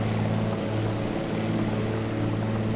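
A DHC-2 Beaver's radial propeller engine in FS2020 drones at a steady cruise, loud and close, with strong low hum tones holding even throughout.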